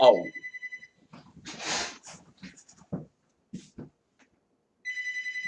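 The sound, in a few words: telephone ringing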